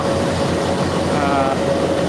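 Steady rumbling of Bangladeshi train locomotives with a constant mechanical hum throughout, loud and continuous, with a faint voice beneath.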